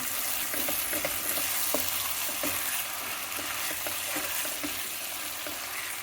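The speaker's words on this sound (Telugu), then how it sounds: "ఇది టమాటాలు 2 ఉల్లిపాయలు వేసి బాగా వేయించి పచ్చివాసన పోయి వేయించాలండి" Tomatoes and onions frying in a pan give a steady, close sizzle for a spicy thalikalu preparation, with light stirring clicks now and then and no talk.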